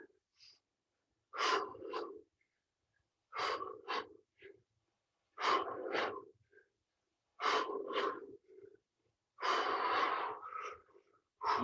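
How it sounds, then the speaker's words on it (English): Heavy, rhythmic breathing during a high-intensity workout interval, five loud bursts of forceful huffing exhalations spaced about two seconds apart, close and clear with no talking. "Lots of breathing. Your muscles need oxygen."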